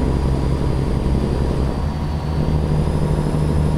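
A truck engine with a Cummins sound mod in American Truck Simulator drones at a steady low pitch, a loud, constant diesel hum with a slight dip midway.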